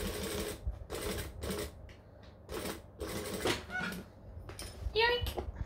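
A sewing machine stitches a tote bag slowly, forward and backward, in short stop-start bursts of whirring close by, with squeaky tones near the end and a voice talking at times.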